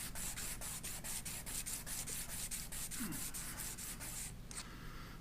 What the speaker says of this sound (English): After the 220 grit, I'm going to go to 400 grit. to get a little finer